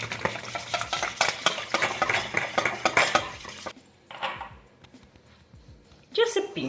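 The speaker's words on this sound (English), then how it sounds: "Mix together. And hand whisk is perfectly fine for this." Hand whisk beating eggnog with maple syrup in a bowl, a rapid rhythmic scraping and tapping of wires against the bowl that stops, then resumes briefly with a voice speaking over it.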